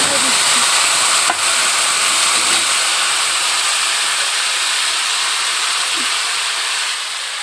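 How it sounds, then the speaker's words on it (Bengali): Tamarind pulp poured into a hot pan of puti fish curry, giving a loud, continuous hiss and steamy sizzle close to the mic that stays strong throughout and fades slightly at the end. "এরপরে তেঁতুলের গোলা দিয়ে দিচ্ছি"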